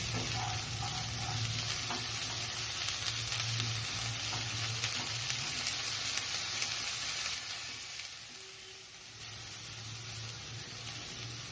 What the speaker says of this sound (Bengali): কপিগুলোকে একটু লাল লাল করে ভেজে নিতে হবে